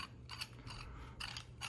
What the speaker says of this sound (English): what we're gonna do is screw them together